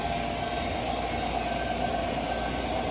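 A New Jersey Central model switcher locomotive runs continuously with a steady whirring, rattling hum and faint track clatter, close by and without speech.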